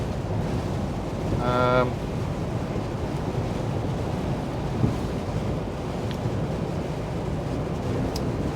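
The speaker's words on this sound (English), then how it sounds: "Jeez, that wind is really chucking." Strong wind buffets the cab of an unloaded truck, a constant loud low roar and rumble with a brief tonal whine early on and a single soft thump midway.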